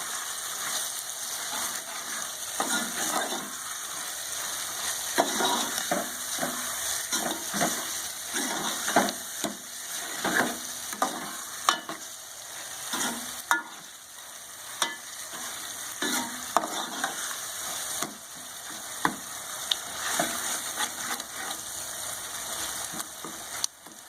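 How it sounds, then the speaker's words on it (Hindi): Karela with small red chilies being stirred in a frying pan: steady close sizzling under repeated scraping stir strokes, continuous for the whole stretch with no talking. "इसको अच्छे तरीके से इसमें मिक्स कर लेंगे।"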